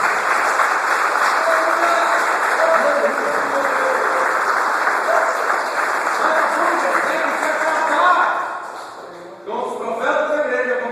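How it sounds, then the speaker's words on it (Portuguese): Church congregation applauding for Jesus at a men's network service, a sustained dense wash of clapping for about nine seconds that thins out near the end as voices and music come through. "dê uma salva de palmas para Jesus"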